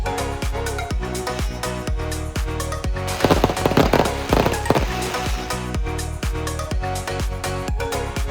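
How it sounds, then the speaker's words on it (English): Rapid bursts of fireworks crackle and pop loudly and continuously overhead at an opening ceremony in Hong Kong, with a denser flurry of explosions partway through. "We had fireworks raining down on us."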